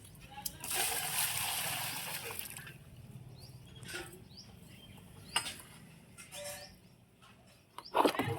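Water splashes and sloshes during washing outdoors, a long wash of splatter early on and then scattered splashes, with people talking nearby and faint birdsong.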